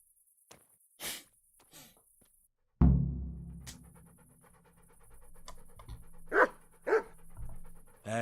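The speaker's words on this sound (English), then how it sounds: "Hey, Mutt" A dog in the medieval role-playing game Kingdom Come: Deliverance gives a few sharp barks, then pants steadily and close up over a low game ambience, with another bark near the end.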